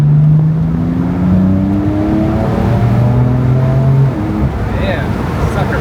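A BMW M4 accelerates hard through a long gear, its engine note climbing steadily, loud and close from inside the car, with voices talking over it.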